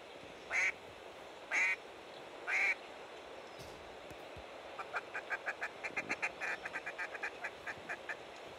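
Ducks quack in the video game Hunting Simulator 2: three distinct, evenly spaced quacks, then a rapid run of quieter, chattering quacks, all over a steady outdoor ambient hiss.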